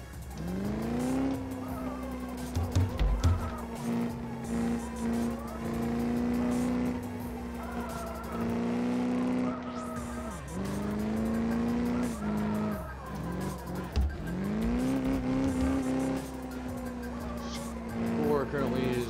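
Racing video game car drifting with engine roar and repeated tire squeals, steady and loud throughout, with someone talking over it.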